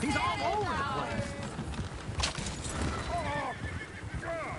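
Horses in the Red Dead Redemption 2 video game neigh and whinny loudly, close by, over running hoofbeats and noisy background commotion.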